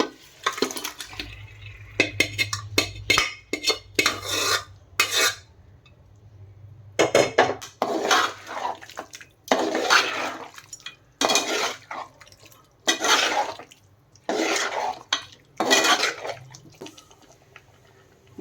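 Boiled mutton and its stock go into potatoes in a cooking pot, with repeated clanks and scrapes of a metal spoon against the pot, splashing and sloshing liquid in irregular bursts, and quiet pauses between.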